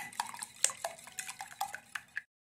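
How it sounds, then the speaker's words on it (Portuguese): Two eggs with a pinch of salt are stirred in a bowl, giving a run of close, light scraping and tapping strokes against the bowl for about two seconds before stopping abruptly, with no voices. "Aí, eu vou misturar aqui."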